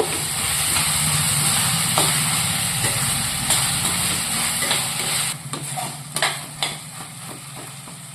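Tuna curry masala fries on a medium flame with a loud, steady hiss and sizzle that drops back midway, followed by a few scraping stirs against the pan.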